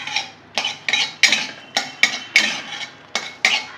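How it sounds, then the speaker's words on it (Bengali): Tempering spices and dried chillies are stirred in a pan, a utensil scraping and clinking against the metal in about ten quick, evenly spaced strokes, close and moderately loud, with no voices. "এটা একটু নেড়ে নেব।"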